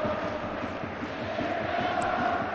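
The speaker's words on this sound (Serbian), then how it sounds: "Navijači Japana." Japanese football fans in a stadium during a Japan versus Serbia match, a dense continuous crowd roar with chanting, fairly loud and steady, with no clear individual voices.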